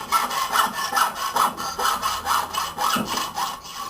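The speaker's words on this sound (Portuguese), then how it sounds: "Segura o peso da serrinha que você consegue fazer uma boa." A small hand saw cuts through a PVC ceiling panel in steady back-and-forth strokes, about two rasping strokes per second, close and fairly quiet with no talking.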